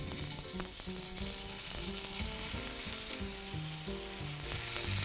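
Tofu sizzling and crackling steadily in a very large frying pan over medium-high heat, a loud, close, continuous fry with no talking.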